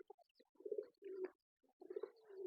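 A pigeon being held in someone's hands while a thread tangled around its foot is cut away gives a few soft, low cooing calls in separate bursts, close and fairly quiet.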